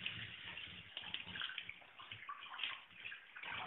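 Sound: water running while washing tuna fish

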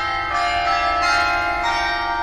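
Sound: chime ringing in video game Arx Fatalis

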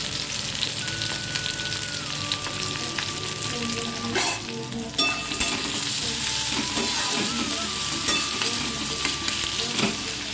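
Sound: onion and green chili frying in oil

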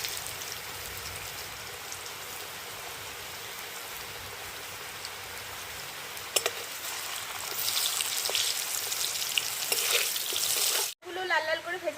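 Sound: potato strips frying in oil

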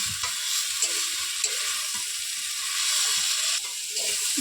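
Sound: water spinach (kalmi greens) with potato frying in a pan

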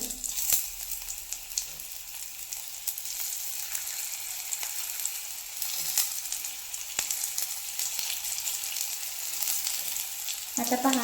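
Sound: stuffed bitter gourd frying in oil on low flame

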